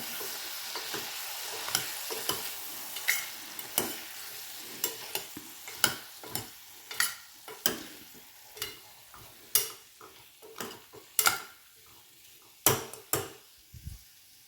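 Eggplant and potato curry with a chopped tomato and coriander-cumin powder being stirred in a pan: repeated scraping, clacking spoon strokes at an irregular rhythm over a soft, steady sizzle, close and fairly quiet, with no talking.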